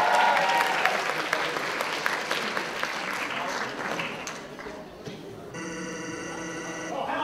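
An audience applauds cosplayers at a cosplay contest, a sustained wash of clapping that slowly tapers, followed near the end by a harsh electronic buzzing tone.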